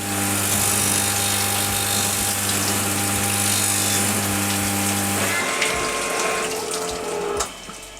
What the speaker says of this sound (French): envoyer ensuite à la meule, qui va venir découper le verre